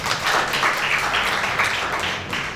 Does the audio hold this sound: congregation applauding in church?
yes